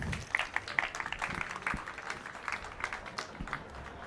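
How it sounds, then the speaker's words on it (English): An audience at a tech networking event in Los Angeles applauds a presenter as he is introduced, giving moderate, steady clapping from across the room with a few louder claps near the start. "Give him a round of applause."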